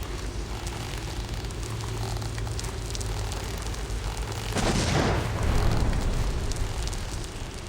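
Fire burning as plastic catches alight, a steady dense crackling roar throughout that swells into a louder whooshing burst midway and stays loud, with no talking.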